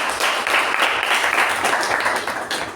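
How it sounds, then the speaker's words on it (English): At a Toastmasters club meeting, the audience gives a round of applause after a speaker, a brief burst of close, steady clapping from a modest crowd. "A round of applause, please."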